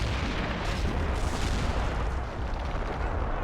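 Artillery fire in the Army Men video game forms a dense, continuous wash of booming blasts and gunfire, loud and overlapping with no break.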